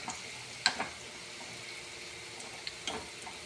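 Snack dough puffs up in hot oil with a faint, steady sizzle, pierced by a couple of crisp pops and crackles.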